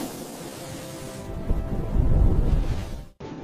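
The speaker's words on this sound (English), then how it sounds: "why is it so windy?" Wind blowing outdoors on a hot day: a steady, broadband rushing roar that swells louder midway through, then cuts off abruptly near the end, with no voices.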